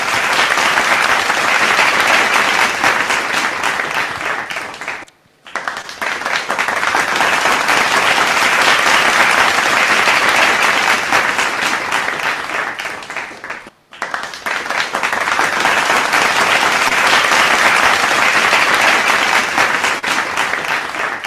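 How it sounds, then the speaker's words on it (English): A crowd applauds at a live unveiling event for an advertising report, loud sustained clapping that twice dips briefly and swells back over about twenty seconds. "please give a round of applause."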